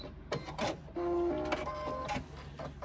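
A sewing machine runs a straight line of stitching down the center of a fabric pouch to form double card slots, a close, steady mechanical whir lasting a couple of seconds with no talking.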